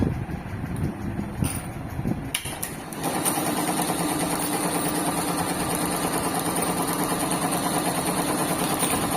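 A computer embroidery machine stitches silver zari, starting up after a few seconds into a steady, fast mechanical whir and chatter that runs on evenly and close by.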